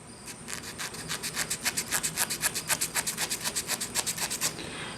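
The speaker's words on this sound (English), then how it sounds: "Okay, lots more sanding to do." Rhythmic back-and-forth sanding strokes on a wooden Stratocaster-style guitar neck, about twenty quick rasping passes in a steady rhythm, close and fairly quiet, with no talking.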